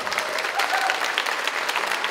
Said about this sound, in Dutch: wat verdient een applaus, uiteraard